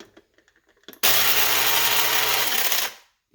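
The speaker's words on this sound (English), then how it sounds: "Coffee grinder, it works." A coffee grinder grinding ginger whirs loudly and steadily for about two seconds, then winds down, after a few faint clicks and taps.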